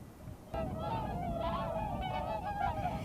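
A flock of whooper swans calling at the Nakdong River estuary near Eulsukdo in winter, repeated honking calls that overlap steadily at moderate distance over soft background noise.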